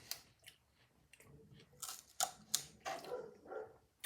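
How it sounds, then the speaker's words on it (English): A knife slicing through Japanese knotweed stalks to cut out the node pieces, giving a few crisp, crunchy snaps close up, irregularly spaced and fairly quiet. "Cut the node pieces out."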